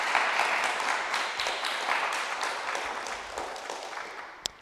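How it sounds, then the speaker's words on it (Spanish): Congregation applause during a church service, a dense burst of clapping that gradually fades over several seconds, ending with a single sharp clap. "Démosle un aplauso a nuestro Señor"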